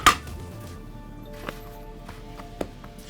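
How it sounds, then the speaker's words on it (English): A knife chops through cinnamon bun dough on a board, slicing it into rolls: a sharp first cut followed by two softer, spaced taps in a quiet kitchen. "We're gonna be cutting each half dough into 8 pieces of rolls."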